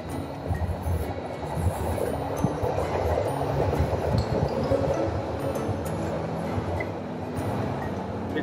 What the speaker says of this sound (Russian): Вот так вот он идет, как трамвай.